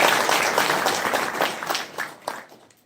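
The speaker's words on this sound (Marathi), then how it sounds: "आपण टाळ्या वाजून त्यांचं स्वागत" A burst of applause from a gathered crowd at a village visit event, loud at first and gradually thinning into scattered claps before fading out.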